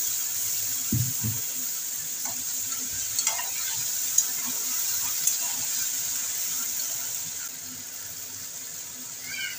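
Ginger, garlic and whole cumin paste with two tomatoes sizzling in a frying pan, a steady soft hiss with a few brief stirring clatters near the start, no talk.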